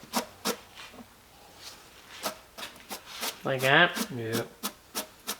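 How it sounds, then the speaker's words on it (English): Brush bristles rasp against a papier-mâché pumpkin in short, repeated flicks of paint, close and fairly quiet, with people talking briefly between and over the strokes. "just brush it until it doesn't paint anymore"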